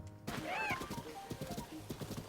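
A horse in the video game Zelda: Tears of the Kingdom gives a short whinny, then its hooves clip-clop in a quick steady rhythm, fairly faint and without talk.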